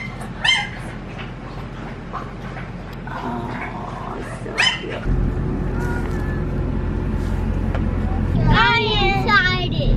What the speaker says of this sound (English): Oh, look at those puppies.